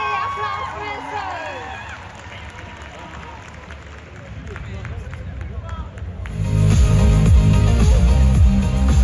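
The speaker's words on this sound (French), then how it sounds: "On peut l'applaudir bien fort." Loud applause and cheering burst from a convention audience for a cosplay contestant in costume, swelling over the second half after a quieter stretch of crowd murmur and an announcer's voice.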